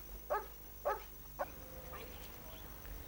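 A dog gives three short, sharp barks spaced about half a second apart, fairly faint against a quiet background hum, then falls silent.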